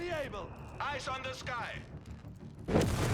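In the Company of Heroes 3 video game, a heavy mortar shell lands with a sudden, loud explosive burst near the end, following a stretch of excited commentary.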